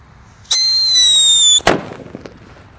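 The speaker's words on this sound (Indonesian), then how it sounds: "Ini mercon yang suaranya menggelegar" A Black Buster firecracker bursts once, loud and close, with a long whistling shriek before a sharp bang that trails off into scattered crackles.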